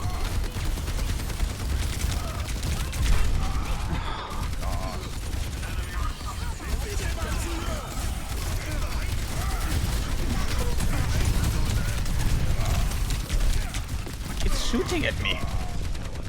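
Gunfire in the video game Overwatch 2 during a team match, a dense continuous stream of rapid shots and mechanical effects mixed with ability sounds, with a voice talking over the action.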